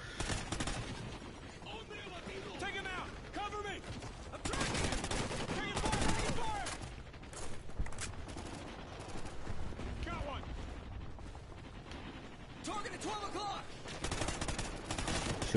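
Call of Duty Ghosts combat brings dense rifle and machine-gun fire in bursts and volleys, with heavy blasts mixed in and voices talking under the shooting.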